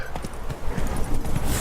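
Roach, a horse in The Witcher 3 video game, gallops with a quick rhythm of hoof clops in the game audio. The hoofbeats are moderately loud and sit over a steady background bed.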